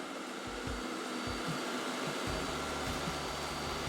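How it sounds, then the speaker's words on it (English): A Roomba S9 Plus robot vacuum running in another room, a steady broadband roar with an engine-like low hum pulsing underneath, continuous throughout. "If you hear that loud roar from in the other room, that's my Roomba S9 Plus cleaning my theater room"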